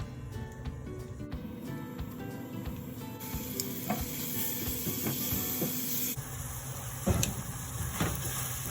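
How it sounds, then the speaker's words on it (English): Steady sizzle and hiss of bananas caramelizing with brown sugar and butter in a hot pan, continuous and close, with faint stirring clicks and no talk. "Brown sugar is starting to caramelize beautifully with the butter. And now I want the bananas to just cook down"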